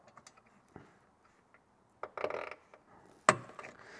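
A car headlight bulb's retaining clip gets worked back into place, with scattered small plastic and metal clicks and fiddling, then a sharp snap near the end. Everything is close and quiet, with no voices.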